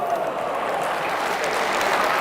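Audience applause at a live stage magic show following an egg trick, a dense steady roar of many hands clapping together, loud and sustained without pause.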